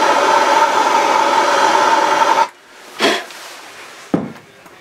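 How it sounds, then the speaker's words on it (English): Torch heating heat-shrink tubing on wire: a steady roaring hiss of the flame for a couple of seconds that cuts off abruptly, followed by a brief rustle and a single sharp tap. "Real quick hit with the torch."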